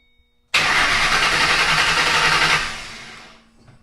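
A 2007 Ford Mustang GT with a freshly installed engine cranks and catches, bursting into a loud, close roar that holds for about two seconds before easing down toward idle and fading.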